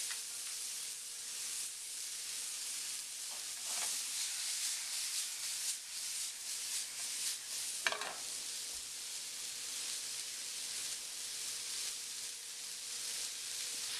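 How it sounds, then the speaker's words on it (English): Chicken sautés in a hot pan with a steady, even sizzle and hiss throughout, broken by a few faint clinks and one sharp knock, and no talking. "Now that's sauteing, we're just going to add the chicken to it."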